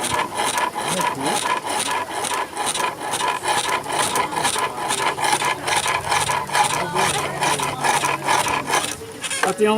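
Wood turning on a lathe gives a continuous dry scraping rasp with a steady, rhythmic grain to it. It runs unbroken for the whole stretch, close and prominent, with no voices over it.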